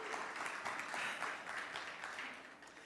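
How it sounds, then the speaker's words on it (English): Sustained audience applause in a Sunday church celebration service, a dense, steady wash of many hands clapping at moderate distance that fades slightly toward the end, with no speech over it. "let's give that another round of applause"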